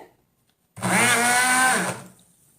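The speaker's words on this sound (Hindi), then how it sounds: "अब इसे मैं ब्लेंडर से पीसूंगी" A kitchen blender grinds peeled walnuts for breakfast, starting abruptly after a moment of quiet and whirring loudly and steadily for just over a second before winding down.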